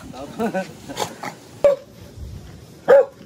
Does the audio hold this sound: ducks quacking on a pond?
no